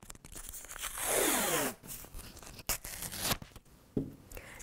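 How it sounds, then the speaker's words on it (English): Blue tape is torn from a roll and pressed over a natural-dye project: a long, loud ripping unspool, then several sharp crinkles, taps and short tearing snaps, close up with no talking. "now what I wanna do is totally cover it with blue tape"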